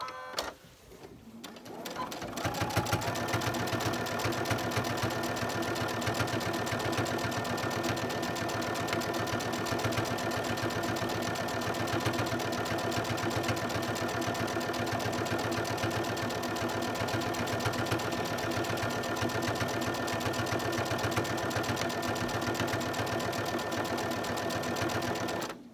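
A sewing machine stitching a baby burp cloth, a fast, continuous mechanical whir and rapid needle clatter running steadily after a brief quiet start, close and prominent.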